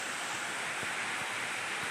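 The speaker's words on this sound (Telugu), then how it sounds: "చూడండి పైనుంచి పడుతుంది జలపాతం" A waterfall on a road trip to Bhairavakona, with water pouring down from above in a steady, dense roar that fills the scene, no voices heard.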